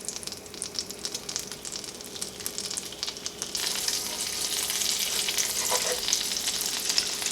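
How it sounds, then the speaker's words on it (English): Sausage frying in melted butter for apple cranberry stuffing, a crackling sizzle with stirring scrapes that swells louder and denser about halfway through, close by, no talking. "We're just going to cook our sausage till we get some nice color on it."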